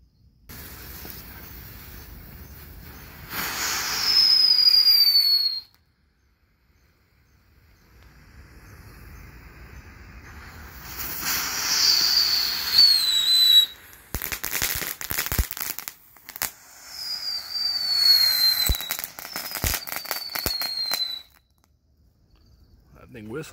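Crater Cruiser novelty firework by Brothers Pyrotechnics going off in several loud whistling bursts with hissing, crackling stretches and a few sharp pops between them, separated by short quiet gaps.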